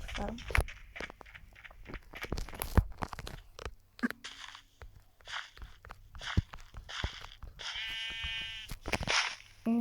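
Minecraft sheep bleat near the end amid crunchy footsteps and clicks, with some speech mixed in throughout.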